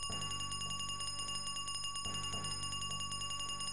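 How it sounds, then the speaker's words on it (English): An alarm clock in the video game Montha-Zeux rings continuously in a fast, steady metallic trill, loud and unbroken throughout. "Probably want to shut off that alarm clock before it gets really annoying."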